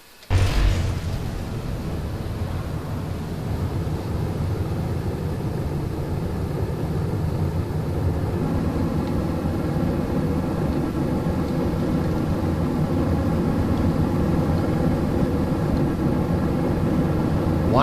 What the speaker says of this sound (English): Why did those Separatrons fire at this point?